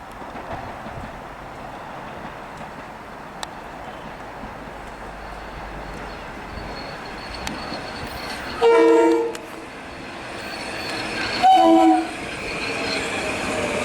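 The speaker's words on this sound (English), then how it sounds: "Just like that on the first try, here's an M8." A Metro-North M8 electric train on the Harlem line rumbles past steadily, sounding two loud blasts of its horn, the first about a second long and the second shortly after, with no talking.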